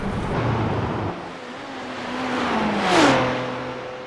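Racing-game engine of a GT3 race car at Le Mans sweeping into the Porsche Corners: a steady, loud motor whine that shifts pitch between gears and swells into a brief passing rush near the end, with no talking.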